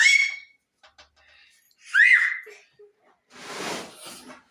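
Whistled chirps and trills imitating a sparrow, a voice mimicking birdsong in short bursts with gaps between, followed by a breathy hissing burst.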